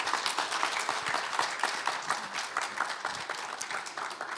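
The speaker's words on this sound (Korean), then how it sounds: "우리 세 분 모두께 감사의 박수 한번 부탁드리겠습니다." A conference audience at a Korean financial-market outlook event gives steady, moderately loud applause for the panelists, many hands clapping at once without pause.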